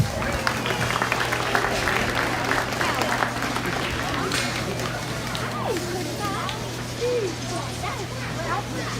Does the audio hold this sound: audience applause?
yes